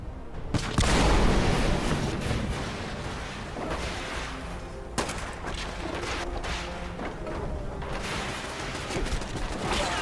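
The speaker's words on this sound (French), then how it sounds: "Attention, grenade." Grenade blast and gunfire in the video game Fallout 76 during a battle, with a heavy boom followed by rolling bursts of shots and more sharp blasts, loud and dense.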